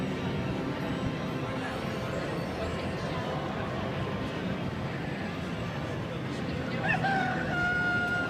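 A rooster crows and hens cluck over a steady background of noise, with speech running through it; the crow rises clearly near the end.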